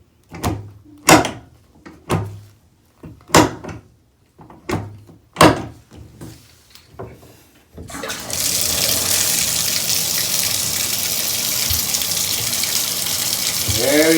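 Water gushes steadily down a freshly unclogged sink drain, a loud continuous rush that follows a series of sharp knocks and thunks from plumbing work.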